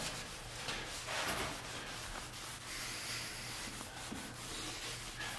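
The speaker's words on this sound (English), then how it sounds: "I like to make sure that I rub my stain in a circular motion" Soft, steady rubbing of a cloth working stain into a white oak mantel beam, a continuous scratchy swish with no talking.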